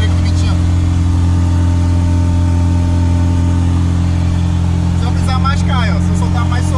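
A supercharged Chevette's engine drones loudly and steadily while cruising at about 70 to 80 km/h, with a strong low hum and blower whine that holds throughout, and a voice briefly over it near the end.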